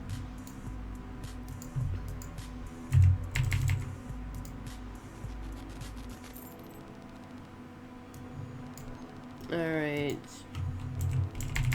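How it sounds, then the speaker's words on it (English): A clicky computer keyboard clatters in bursts of rapid, close keystrokes during a live game stream, sharp clicks coming in irregular runs alongside game ambience, with a brief spoken word midway. "Sorry for the typing in your ear, clicky keyboard."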